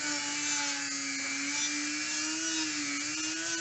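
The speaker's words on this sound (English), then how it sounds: "so here goes the flap wheel. Just try to smooth that out in there." A flap wheel on a high-speed rotary tool smooths motorcycle cylinder head intake ports, giving a steady, close, high-pitched whine with a slightly wavering pitch and no pauses.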